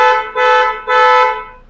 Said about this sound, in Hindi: हॉर्न का भी मैं अगर आपको साउंड दिखाऊं